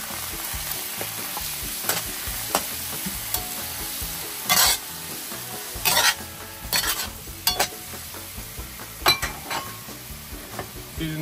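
Shrimp sear in hot oil in a pan for a coconut curry, giving a steady close sizzle broken by sharp scrapes and clinks of a utensil stirring and tossing them.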